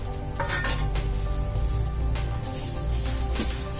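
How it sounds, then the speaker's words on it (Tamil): Curry leaves roast in a dry pan for a Tamil curry leaf powder, with a steady crackling sizzle and light scraping and clinking of a spoon against the metal pan throughout. "நம்ம கருவேப்பிலை வறுத்துக்கலாம்."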